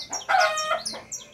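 Chickens kept below a pigeon loft give a short run of loud clucks and crowing calls, close by and with no one talking.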